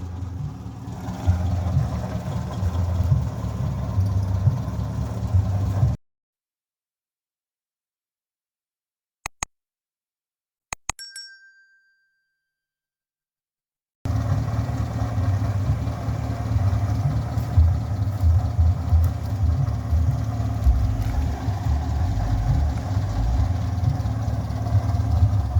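A 1987 Toyota Kijang Super engine runs steadily with a low rumbling idle, then cuts out into a silent gap broken by a few faint clicks before the running engine returns just as strongly.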